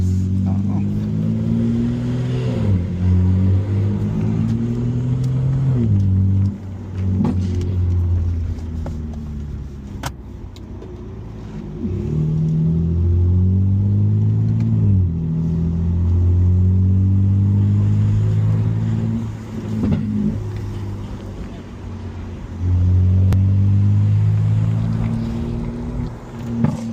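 A 2024 BMW M3 Competition launches down an eighth-mile drag strip, engine roaring and climbing through repeated gear shifts, loud and sustained with people talking over it.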